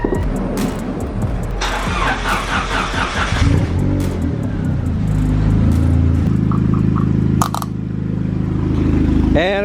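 Turbocharged Honda Civic EK engine cranks, fires up and revs, settling into a loud, rough idle close by, with clicks and brief rattles over the steady engine drone.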